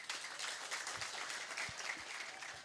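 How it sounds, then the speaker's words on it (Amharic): A church congregation applauding, a dense continuous wash of many hands clapping at moderate distance, sustained throughout with a few louder individual claps. "ለራሳችሁ አጨብጭቡ።"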